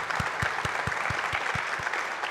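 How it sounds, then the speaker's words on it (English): Steady applause from a symposium audience at a Queensland health and wellbeing event, many hands clapping together in an even, sustained wash, fairly close and loud, with no talking over it. "Yes, round of applause"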